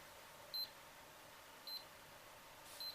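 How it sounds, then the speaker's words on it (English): A small tempo trainer emits three short, high electronic beeps at even intervals of just over a second, faint against a quiet background. "That's not my heart, it's the tempo trainer."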